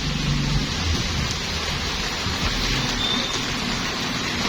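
Steady rain falls outside a balcony during winter weather in Egypt, a continuous dense hiss at close range with no talk, the wash even and unbroken throughout.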